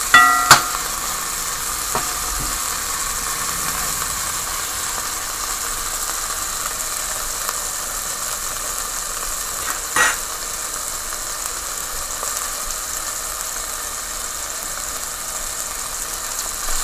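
Chicken tenderloin fries in a pan with a steady, even sizzle that holds throughout, with a few faint clinks early and midway and no talking.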